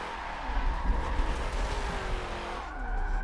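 A Rebel Rock Racing Camaro replica race car drifts in Forza 7, its engine droning steadily while tires squeal and skid continuously through the slide.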